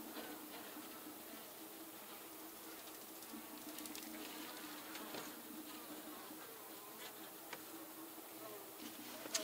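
Honey bees buzz steadily around an opened horizontal long hive as frames are lifted out, a dense continuous hum close by with no talking.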